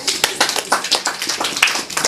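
A small audience at a Longrich business presentation claps in brief, uneven bursts, a handful of close hand claps in quick succession with no talking over them.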